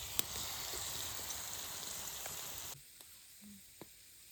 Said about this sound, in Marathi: या साईडला मस्त कौल फ्राय तयार होते आपले